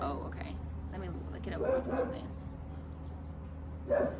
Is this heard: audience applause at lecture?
no